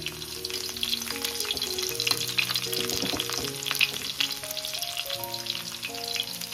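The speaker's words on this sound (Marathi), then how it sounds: "तर चला तेल आपला गरम झालं, आपण लसूण टाकून घेऊ." Garlic frying in hot oil, a busy continuous sizzle with crackling pops and occasional stirring scrapes, close and moderately quiet.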